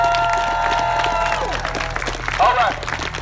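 Protest crowd at a nightly downtown Memphis march applauding and cheering for regular attendees, a dense wash of clapping and whoops throughout with a shout rising near the end, over steady background hum.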